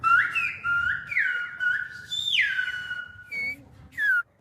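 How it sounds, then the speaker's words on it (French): Loud, clear whistled language carried from one valley to another, with long gliding and wavering tones phrased like speech. Short pauses separate the phrases, and low background noise sits underneath. "d'une vallée à l'autre retentissent ces étranges sifflements"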